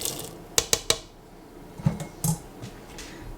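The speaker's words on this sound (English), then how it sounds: "Now I'm going to add in my whole beans." Whole beans going into an Instant Pot with red beans, rice and beef: a quick run of three sharp clinks against the metal pot, then a couple of softer knocks and scrapes, close and alone.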